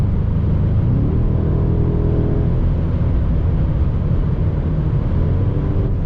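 Steady low rumble inside a 2025 BMW M5 with its 727 hp V8, cruising at around 200 km/h on the autobahn, blending muffled engine drone with road and wind roar, constant and unbroken with no voices.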